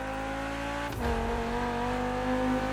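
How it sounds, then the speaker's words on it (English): A fast Audi in The Crew Motorfest racing game drones with a steady engine note that shifts pitch abruptly partway through, like a gear change or throttle lift, then settles back into a constant hum with no talking. "This is a pretty fast car. Sounds nice like the Porsche."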